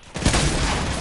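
Gunfire in a video game, a burst of pistol-type shots starting a moment in and rolling on as a dense, loud fusillade with booming echoes, no speech.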